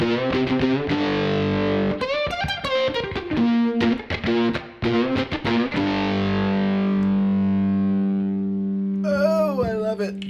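A heavily distorted, fuzzy electric guitar played through a fuzz pedal plays sustained chords and bent notes, loud and gritty, with a brief pause before a final wavering phrase.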